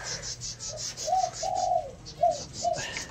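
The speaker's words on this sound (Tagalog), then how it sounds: "Ayan, lumipad yung bato-bato natin." A zebra dove gives several soft, rising-and-falling coos in short spaced phrases, close and clear over a quiet background hum, with faint higher chirps near the end.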